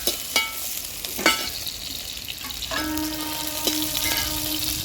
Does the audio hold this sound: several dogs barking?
no